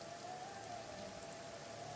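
Steady rain in the video game Kenshi, a soft continuous patter and hiss of falling drops on surfaces with no breaks, faint and even throughout.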